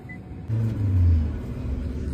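A car engine rumbles low and steady from inside the cabin during a drizzly day out in Odisha, quiet at first, then swelling into a fuller hum that holds to the end.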